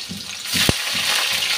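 Black cumin seeds and green chili fry in hot oil, a loud steady sizzle with a brief sharp pop.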